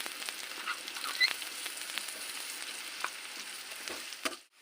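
Tomatoes hitting hot oil give a steady, close crackling sizzle with scattered pops, running unbroken for several seconds with no voices, then dropping off sharply near the end.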